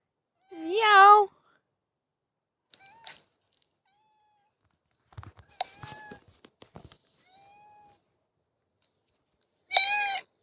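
Cat meowing in a quiet room, a few separate short meows with long silent gaps between, plus faint soft shuffling and a brief murmur in the middle.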